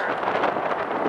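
Strong wind buffets the microphone on an 88th floor outdoor observation deck, a loud, rough, continuous roar of gusts with no voices.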